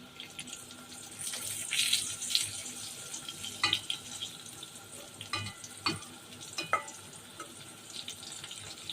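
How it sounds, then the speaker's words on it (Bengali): Spiny gourd (kakrol) slices frying in oil in a home kitchen, a steady soft sizzle with a few brief clinks and scrapes of a utensil in the pan, close and fairly quiet with no talk. "এই কয়েকটা ভাজলেই শেষ হয়ে যাবে ভাজা।"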